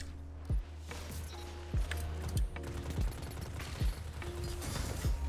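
Bursts of video game gunfire in Destiny 2 crack out in short clusters over a steady mechanical hum, a few shots at a time.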